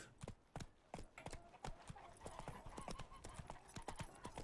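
Roach, Geralt's horse in The Witcher 3, galloping with rapid, evenly rhythmic hoofbeats pounding close and clear for the whole stretch, each strike sharp and heavy.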